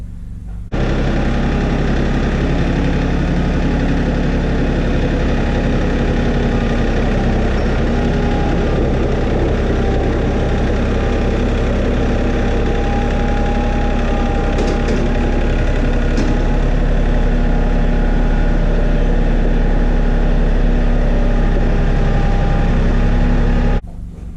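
A 1999 Chevy regular cab short bed pickup with a 5.3 engine and four-wheel drive, a rusty donor truck with a broken frame, idles steadily and loudly up close, a constant rumble throughout.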